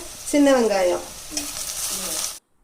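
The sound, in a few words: onions sautéing in a pan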